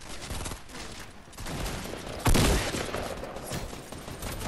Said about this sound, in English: He's in a gunfight.